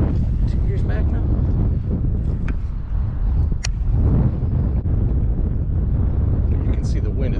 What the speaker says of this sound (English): You can see the wind is really picking up.